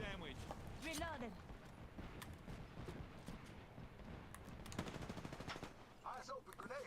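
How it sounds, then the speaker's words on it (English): Rapid bursts of knuckle cluster fire in Apex Legends gameplay, crackling shots repeating across the clip amid busy game effects, with a voice talking over parts of it. "Stand back, knuckle clusters firing."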